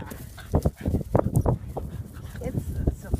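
A small five-month-old Boston Terrier puppy yips and whimpers in short bursts while playing outdoors, close by, with people talking over it.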